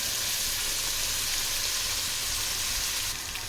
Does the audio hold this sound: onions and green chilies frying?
yes